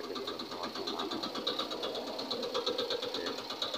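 Two engine-driven machines run at a fishing pond in Pabna, a close, continuous rhythmic mechanical drone with a fast pulsing beat and no talk.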